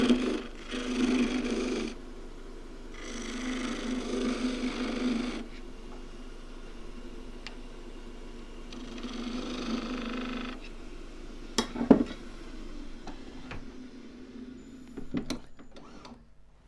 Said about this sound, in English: I'm going to use a gouge for that.